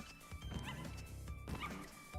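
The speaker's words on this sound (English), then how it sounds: "Oh, he sounds like a dog." A polar bear ridden in Crash Bandicoot 2 gives repeated dog-like yips and barks, bouncing rhythmically over game music and sound effects.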